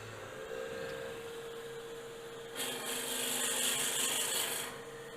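A lathe turns a wood Christmas ornament while a tool cuts into it to set wall thickness, giving a steady low hum that shifts halfway through into a louder, hissing scrape of cutting.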